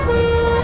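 A sustained tonal truck telolet horn blares loud and steady for the whole short moment, a bright held pitch with rich harmonics over low background rumble.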